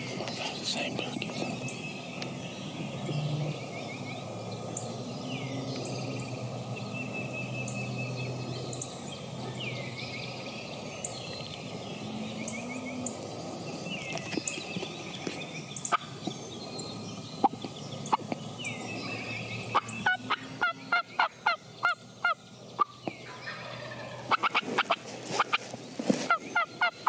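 Wild turkeys in spring turkey season near a ridge and square panel fence, with rattling gobbles sounding toward the end, moderately distant, after a long stretch of quiet outdoor ambience and soft talk.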